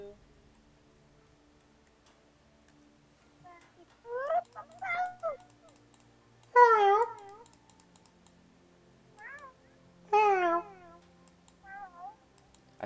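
A cat meows several times, clear drawn-out calls spaced across the stretch with quiet gaps between, fairly close, alone without talk.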